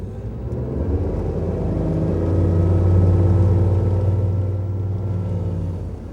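Stingray 208 LR motorboat running on choppy water, a deep steady engine drone that swells as power is added, with hull slap and water rush around it.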